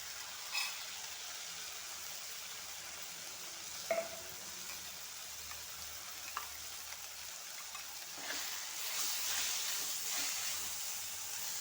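A steady frying hiss rises and swells near the end as ground spice paste goes into a hot pan for an ivy gourd and soya curry, with a few faint utensil knocks and no talking.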